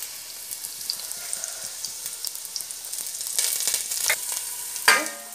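Onions and curry leaves frying in hot oil in a kadai give a continuous crackling sizzle with scattered pops, swelling louder toward the end as they are stirred, with a sharp clatter near the finish.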